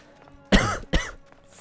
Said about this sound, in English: The coughing returns, boys.